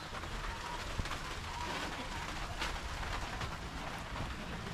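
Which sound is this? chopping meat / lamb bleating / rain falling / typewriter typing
rain falling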